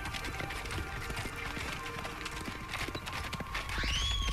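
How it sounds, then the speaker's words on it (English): A horse in the Okami video game gallops with rapid, steady clip-clop hoofbeats, ending in a short whinny over a busy game soundtrack. "It's a weird sounding gallop."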